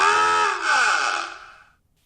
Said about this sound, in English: We call it a car horn or horn.